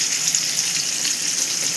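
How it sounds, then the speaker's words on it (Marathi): Chillies hit hot oil for tempering and set off a steady, bright sizzling hiss that holds evenly throughout, heard up close with no voices. "आता हे तेलामध्ये मी मिरची फोडणी टाकलं"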